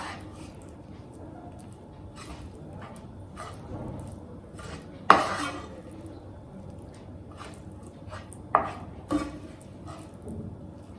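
Jaggery ladoo mixture being stirred in a pan, a faint sticky scraping and squishing with a few sharp clinks of the utensil against the metal, close but quiet, with a voice speaking briefly over it.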